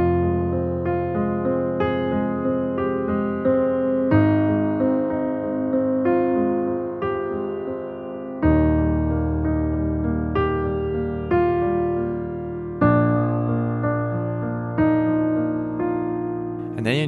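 Solo piano plays the bass part of a piece, a steady rocking figure of sustained low chords. Every few seconds a new chord takes over, played close and full, with no voice over it.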